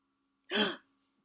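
A single sharp gasp of shock breathing, air drawn in fast through the mouth as after a plunge into cold water, one brief, close, breathy burst, made by a voice imitating the reaction.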